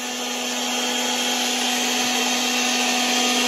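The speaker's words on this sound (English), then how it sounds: "It's a leaf blower." Leaf blower running close by at a camp cookout, a loud, steady high-pitched motor whine with a strong hum, constant throughout.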